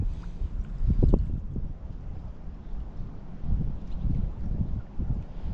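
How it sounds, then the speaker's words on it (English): Wind blows across a lake around a fishing boat, rumbling and buffeting the microphone in low, uneven gusts with faint water slaps, steady and close, with no talk. "Wind is still a problem"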